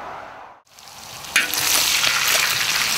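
Pork pieces browning in hot oil for a stew, a loud steady sizzle that dips briefly, then surges and stays bright and crackling, close up with no talk.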